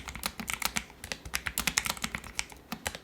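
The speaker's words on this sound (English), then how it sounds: "I've become a huge fan of low profile mechanicals, and this one sounds like soft rain on a tent." Fast, soft typing on a low-profile mechanical keyboard, with light, rapid clicks close up in an even rhythm and no voices.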